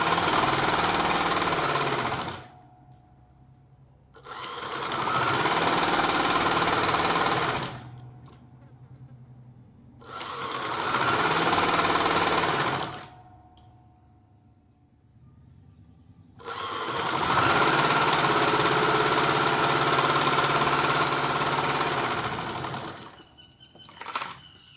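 Sewing machine stitching a kurti, running in four loud close bursts of steady whirring, each several seconds long, separated by near-silent pauses.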